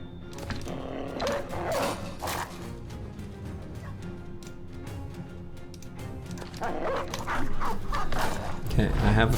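Dogs bark and yip amid combat in the medieval battle game Peasant Militia, with repeated sharp barks and snarling over a dense game soundscape and background voices.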